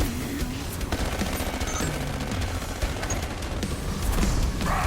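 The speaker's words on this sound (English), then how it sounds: "The sentry guns are absolutely mashing." Sentry guns firing nonstop in the Call of Duty Black Ops 7 game, a dense, loud rattle of rapid automatic gunfire with occasional booms throughout, no talk.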